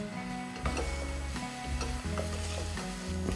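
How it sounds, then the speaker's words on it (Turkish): Garlic is stirred and sautéed in a pan, a constant close sizzle broken by repeated scraping strokes of the spoon, with a faint steady hum underneath and no speech. "şimdi sarımsaklarımızı şöyle bir 2 tur sadece karıştırıp kavuracağız"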